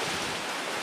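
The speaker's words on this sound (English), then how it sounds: "if it keeps raining like this, I say we turn back" Rain falling at sea around a sailing boat off Pohnpei, a dense, steady hiss of drops and water noise with some wind, continuous and fairly loud for under a second, with no voices.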